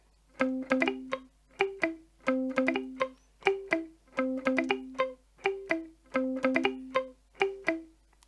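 Guitar accompaniment for a 1950s doo-wop ballad in swing rhythm, with strummed chords in a steady lilting pattern of repeated pairs, played alone and fairly soft.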